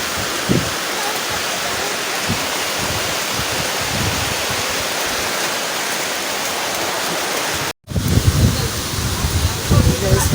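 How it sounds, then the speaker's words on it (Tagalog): Strong super typhoon wind and heavy rain lash the area, a loud dense roar of rain and gusts that cuts out briefly near the end and then returns in a harsher burst, with a voice speaking at times. "hangin plus ulan"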